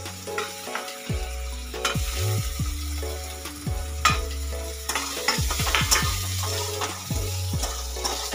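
Egg bhujia stirred in a hot pan while it fries, a steady sizzle broken by repeated scraping strokes of a spatula, close and fairly loud, with no talking.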